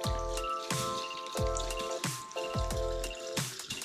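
Japanese umeshu plum liqueur poured into a large 1.8-liter container, gurgling in a steady, rhythmic series of glugs, close and fairly loud with no talking.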